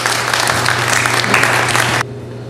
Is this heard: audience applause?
yes